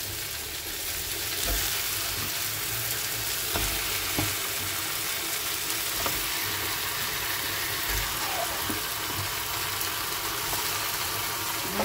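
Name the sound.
chicken frying with onions in pan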